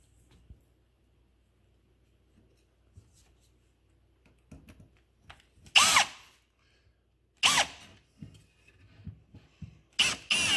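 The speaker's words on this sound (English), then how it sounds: "I need to drill a groove in this piece of dowel here" A power drill cuts a groove into a wooden dowel for a homemade scarecrow, giving three loud, separate drilling bursts after some quiet handling noise. The bursts are close and come about a second and a half apart, with faint clatter between them.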